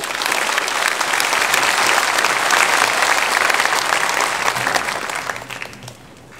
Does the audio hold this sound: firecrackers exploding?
no